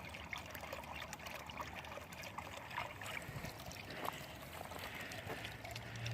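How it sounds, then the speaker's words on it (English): Water from a small spring trickles steadily into a backyard garden pond, a soft continuous burble heard at a moderate distance with no voices. "But now I have a spring."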